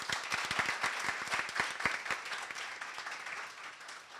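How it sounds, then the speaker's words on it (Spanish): An audience at a book presentation about Diego claps warmly, a dense patter of many hands fading gradually over a few seconds. "Un aplauso, por favor."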